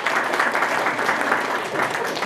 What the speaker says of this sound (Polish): Brawa ogromne.